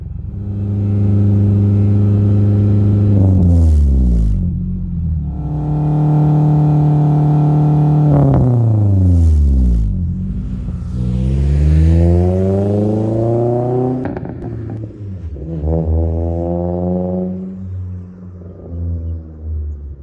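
A car's exhaust drones loud and close, running through several rising and falling revs, each sweep climbing and then easing back to idle before the next, with no voices over it.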